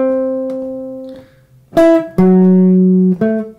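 Guitar chords from the B section of a song ring out alone, one held chord fading before three more struck firmly in quick succession, each sustained and clear.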